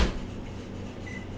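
An oven door shuts with a single soft thump at the start, then a low steady hum continues in a kitchen.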